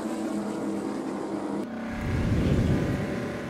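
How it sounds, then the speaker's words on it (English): Race cars circling Sonoma Raceway in a Trans Am Western Championship race, with tires fighting for grip through the fast Turn 10. A steady, loud engine drone holds throughout, briefly dipping before a deeper rumble swells. "as we hear the tires just fighting for grip"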